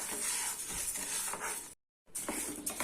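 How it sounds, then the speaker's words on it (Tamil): Moong dal being dry-roasted and stirred in a pan over medium flame gives a steady, close dry rustling and scraping, cut by a brief silent gap before the stirring resumes. "இதை போட்டு நம்ம லைட்டாக வறுத்துக்கலாம்"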